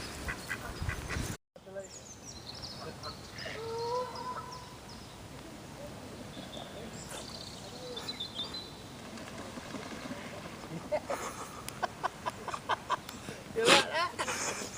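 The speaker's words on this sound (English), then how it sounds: "These little ducks have been keeping me company, mainly because I've been feeding them the pellet." Small ducks at a fishing lake, quacking and honking intermittently near the microphone amid outdoor noise, with someone talking throughout.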